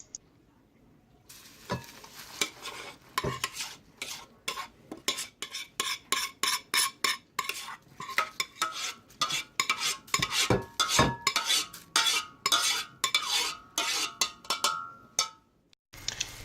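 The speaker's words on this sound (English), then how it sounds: "Mix thoroughly and add to a bowl of 4 cups of cornflakes." A spoon scrapes and clatters against a bowl while melted chocolate syrup made with cocoa powder is stirred into cornflakes, in a brisk irregular rhythm of close crunchy knocks lasting about fifteen seconds.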